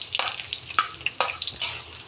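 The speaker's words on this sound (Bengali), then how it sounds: "পেঁয়াজটা ভেজে দিলাম" Chopped onions fry in oil in a wok, a light crackling sizzle broken by intermittent scraping stirs and faint bubbling, close by with no talking.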